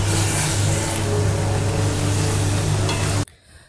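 Chicken sizzles in hot oil in a home kitchen pan, a dense, steady frying hiss running loud for about three seconds before cutting off abruptly.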